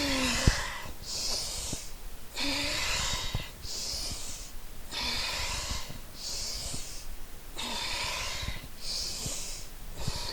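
Loud, close breaths during a yoga core workout: sharp, forceful exhales pushed out through the nose or mouth at a steady rhythm, roughly every one to two seconds, each separated by a brief quieter inhale, with no talking.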